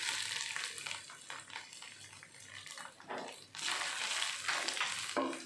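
Coarsely pounded oncom tumbles into a hot frying pan and is stirred, giving a soft, steady sizzle broken by scraping, shuffling spatula strokes that swell and fade, fairly quiet throughout.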